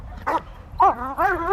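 An LAPD K-9 police dog barks three times in quick succession, loud and close, with short gaps between the barks.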